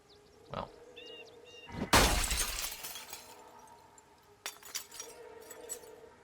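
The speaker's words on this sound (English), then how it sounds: "breaking glass makes a lot of noise" Glass shatters in the zombie survival game Project Zomboid, one loud crash followed by tinkling shards, with a second, smaller burst of breaking glass a couple of seconds later amid faint game sounds.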